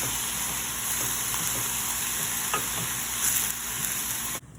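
Shrimp and tofu with other ingredients are stirred while frying. Hot oil gives a dense, steady sizzle with a few soft scraping stirs, close and without speech, and the sound cuts off abruptly at the end.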